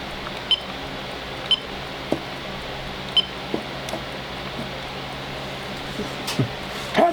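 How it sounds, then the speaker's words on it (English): An unidentified device gives short, high beeps at irregular intervals, with a few clicks and knocks in between, all over a steady room hum. "it beeps at you"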